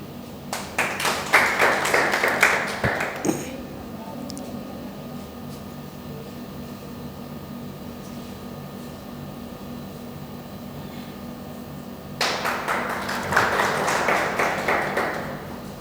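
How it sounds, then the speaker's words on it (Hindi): An audience at Pandey Classes in Prayagraj applauds a student, Nili Singh, who was selected in IIT Mains 2023. A dense burst of clapping lasts about three seconds, then a quiet stretch of room hum follows, and a second equally lively round of applause comes in. "तालियां बजती रहनी चाहिए"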